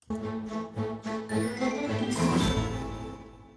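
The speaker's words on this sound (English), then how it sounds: "I'm gonna fade out the original and fade in the reverb track." A few plucked tinkling notes give way to a washier, echo-filled version of the music that swells and lingers, with no one talking.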